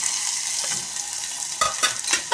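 Onion and garlic fry in a pan with a steady close sizzle, then a few quick stirring scrapes and bursts of louder crackle near the end, no speech.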